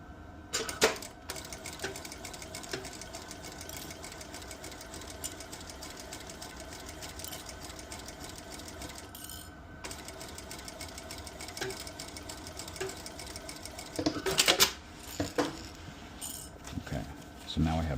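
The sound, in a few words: coverstitch machine sewing top of a bucket hat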